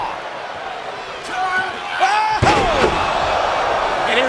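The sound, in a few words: wrestler slammed onto the ring mat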